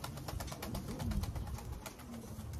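Racing pigeon, a blue bar entered in a one loft race, cooing in soft repeated throaty pulses over a busy background of flapping and shuffling from other birds nearby.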